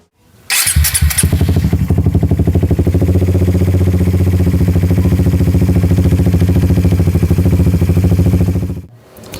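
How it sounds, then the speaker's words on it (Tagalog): A Suzuki GSX 150 motorcycle engine starts and runs loudly at idle close by, with a fast, even ticking rattle from a loose timing chain running through its steady chug. "i-demo ko na rin pala sa inyo kung ano yung tunog ng lumalagitik na timing chain"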